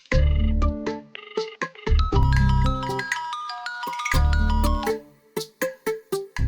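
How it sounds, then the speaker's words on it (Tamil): A phone rings with a bright electronic melody of quick repeating tones in bursts and short pauses, loud and close, with no talking. "எங்க இருந்து ஃபோன் பண்றா?"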